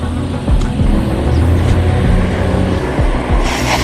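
A van pulls away and drives off in a horror story, its steady engine rumble continuous and fairly loud throughout, with a few low thumps along the way.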